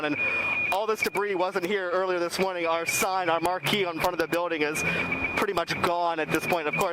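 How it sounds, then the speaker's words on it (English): A building's fire alarm sounds outside in the aftermath of a derecho windstorm, with a steady high electronic tone beeping repeatedly beneath continuous close talk from a reporter. "hear that alarm? That's our fire alarm going off."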